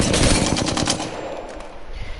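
Apex Legends assault rifle spraying full-auto, a rapid, loud, close rattle of shots that runs for about a second and then tapers into fading echoes.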